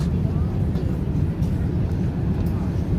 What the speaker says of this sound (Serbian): Najveći avion na svetu koji postoji, to je Airbus 380 sa 500 putnika.